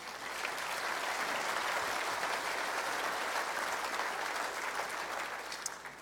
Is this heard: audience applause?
yes